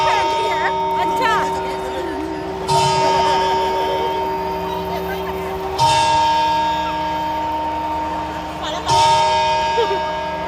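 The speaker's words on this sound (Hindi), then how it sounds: "जैसे घंटी बजनी शुरू हुई ना" Church bells ringing at a New Year celebration in Spain, repeated bright strikes every few seconds with long ringing decay, heard amid crowd chatter and voices talking nearby.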